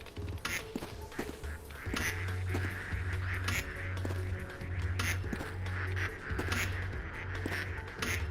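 Ducks quacking in the video game Project P.I.T.T., repeated bursts of quacks at an irregular rhythm over a low buzzing hum, moderately quiet.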